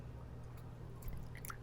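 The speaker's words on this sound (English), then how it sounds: "I'm just going to pour it into my teacup here." Rinse tea poured from a gaiwan into a teacup, a faint, quiet trickle with small splashes and drips near the end, no talk.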